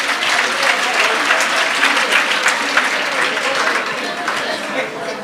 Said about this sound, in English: Colleagues, give a round of applause.